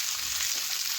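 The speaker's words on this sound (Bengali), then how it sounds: "দেখুন আমি এইভাবে নাড়াচাড়া করে বেশ কিছুক্ষণ ধরে একটু ভেজে নেব" Nasta with onions sizzles in a pan, a dense, even frying hiss heard close and steady for a brief moment.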